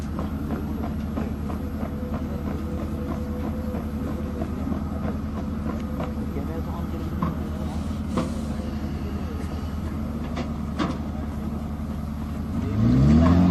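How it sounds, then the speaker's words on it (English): A towed artillery gun moving under its own auxiliary power unit at slow speed, a steady mechanical engine drone with rattling and clanking throughout, louder rumble rising near the end. "The gun is now being moved away to its firing platform to demonstrate its firing."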